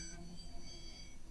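A high, metallic synth tone from an ambient music production, heard dry before reverb, EQ and tremolo are added, rings as thin sustained pitches with a brief bright note at the start.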